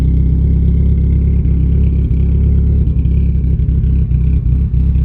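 A Mitsubishi Evo X with a Perrin exhaust idles and revs in a steady, loud, close rumble, with a few brief blips in throttle.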